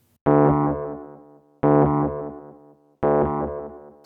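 Three electric piano chords ring out in turn, each struck sharply and decaying, repeated by a stereo delay at even intervals about 1.4 seconds apart, clean and close.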